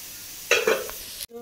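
Masala sizzles in hot oil in a kadai as a spatula stirs it, a brief scraping fry that swells suddenly and then cuts off.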